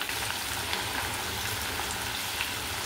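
Onions deep-frying in hot oil for kanda masala, a steady dense sizzle and crackle with fine popping bubbles, continuous and close.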